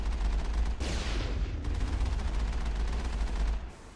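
Sustained gunfire in the Mass Effect video game, a dense continuous burst with heavy low rumble running nearly four seconds before cutting off, no talk over it.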